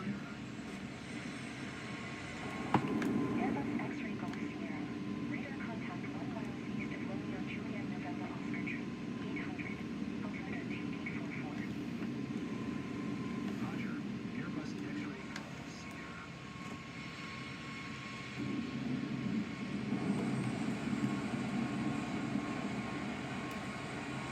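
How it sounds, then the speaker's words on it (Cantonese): In a flight simulator game, an airliner approaching to land over Japan gives a steady, droning engine hum that swells slightly near the end, heard under continuous talking. "差唔多要降落，唔知今次可唔可以揾到機場呢？"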